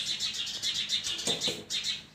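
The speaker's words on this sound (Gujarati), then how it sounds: "એટલે આ ચકલા ક્યારના રાયડું નાખે છે." Sparrows chirp in quick repeated bright bursts, fairly close and lively, with a brief rustle partway through.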